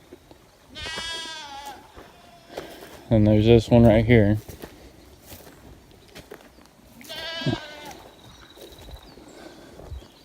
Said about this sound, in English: Goats see me, so they're all making noise.